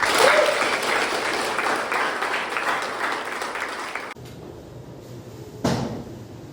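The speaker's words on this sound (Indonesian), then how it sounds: "Hari ini cukup semangat, kita beri aplaus dulu." Applause from a classroom of students at a nursing lecture, a dense burst of clapping lasting about four seconds that stops abruptly, followed by quiet room noise and one brief knock or bump.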